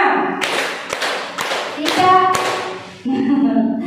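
Several sharp claps ring out in a steady counted rhythm during a classroom exercise, loud and close, with voices talking alongside them.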